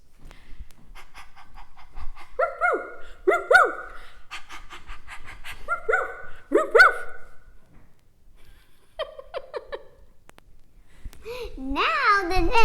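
A child imitates a dog with rhythmic panting breaths during a playful doggy dance, joined by yipping dog-like cries and some childish babble.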